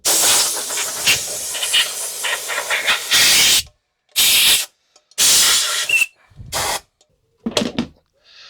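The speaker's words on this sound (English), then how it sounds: "I'll give that a blasting off with the air gun outside" A compressed air gun blasts a Triumph T140 engine part outdoors: a long hissing burst, then several short sharp blasts separated by silence.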